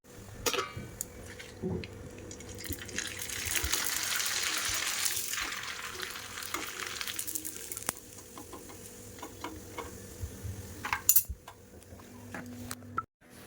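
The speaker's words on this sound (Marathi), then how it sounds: "आता मी भांडी घासून घेते पहिले किचन साफ करते" Kitchen utensils being scrubbed and washed, with a stretch of rushing water and scattered clinks and clatters of metal vessels, fairly quiet and close, with no talk.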